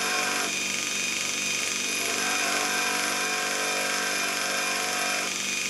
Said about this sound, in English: if you just give it a light grind, just to get that clearance angle